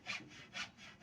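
Hand saw cutting through wood in a steady back-and-forth rhythm, about four rasping strokes, close up and fairly quiet, with no talking.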